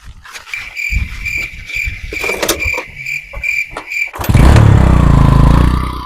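A motorcycle engine being started, rhythmic cranking and clicking under steady insect chirping, then the engine catches into a loud, close running roar.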